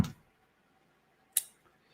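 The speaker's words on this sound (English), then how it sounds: "Let me go ahead and get these scissors back together before I go much further." Two sharp metallic clicks from a pair of fishing scissors being snapped back together, one at the start and another about a second later, close and isolated against near silence.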